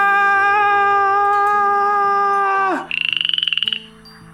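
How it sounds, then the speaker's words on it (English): A common coquí, a small yellow frog native to Puerto Rico, calls with a long sustained tone that slides sharply downward, then a short buzzy pulsing trill, loud and close with no talk. "a small yellow frog, specifically known as the common Coquís, which is typically found on my native island in Puerto Rico"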